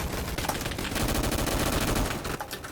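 Rapid bursts of gunfire from a military Roblox shooter game crackle in dense, continuous volleys of automatic shots, loud and busy for most of the stretch before easing off near the end.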